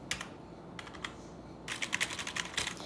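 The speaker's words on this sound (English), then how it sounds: "what I do like is that it's a little quieter than my old keyboard" Typing on a Vivitar LVLUP Pro gaming keyboard with LED keys: short clusters of quiet, close key clicks, a few scattered taps and then a faster burst of keystrokes, with no voices.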